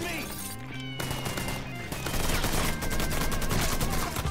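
Rapid bursts of video game gunfire mixed with music and in-game effects, building into a dense, loud rattle in the second half, while a voice talks over it.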